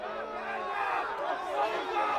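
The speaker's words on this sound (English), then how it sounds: "Home crowd feeling unhappy, as you can hear" Home crowd at an under-23 soccer match between Excelsior NY and Met Oval, a dense mass of voices rising in displeasure, steady and fairly loud across the whole moment with no single voice standing out.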